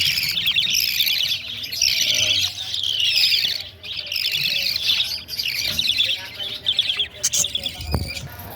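African lovebirds in a breeding cage with their chicks keep up dense, loud chirping and squawky tweets in overlapping bursts throughout, with a brief dip near the middle.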